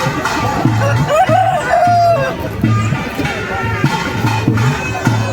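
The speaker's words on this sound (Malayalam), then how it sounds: "അടുത്ത ഊഴം കാത്ത് കിടക്കുന്ന ഒരുപാട് കോഴികളെ നമുക്ക് ഇവിടെ കാണാം." Roosters held at a cockfight during a temple festival in Kasaragod, Kerala crow repeatedly, with a chicken's steady low clucking and a background hubbub of a crowd.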